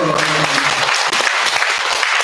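A church congregation applauds during a Sunday service in Jeonju, a short burst of dense clapping with a voice briefly audible at the start.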